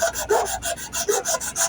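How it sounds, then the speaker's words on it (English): Close, steady back-and-forth rasping of 240 grit sandpaper on a knife handle, about ten quick even strokes with no voices. "Nice little sanding."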